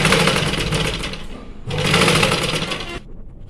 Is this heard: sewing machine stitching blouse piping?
yes